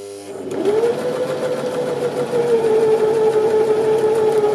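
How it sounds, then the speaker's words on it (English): Sewing machine stitching a narrow rolled hem along the edge of fabric, a steady continuous motor hum that starts up and runs evenly throughout, close and fairly loud with no talking. "I'm going to sew keeping the edge of my foot level with the edge of the fabric"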